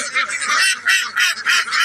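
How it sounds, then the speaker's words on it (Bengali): Farm ducks give a run of loud, close, nasal honking quacks in quick bursts, several calls overlapping, with no talk. "আমাদের হাঁস আল্লাহর হুকুমে অনেক সুস্থ সবলে আছে।"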